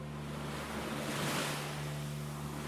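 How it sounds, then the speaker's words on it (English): Ocean surf with waves up to three meters high rolls in as a steady broadband wash, with a low constant hum and a slightly louder surge partway through. "that's what's causing the surf and the waves up to 3 meters"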